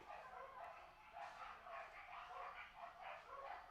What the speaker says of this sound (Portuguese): Nossa, tá uma cachorrada aqui.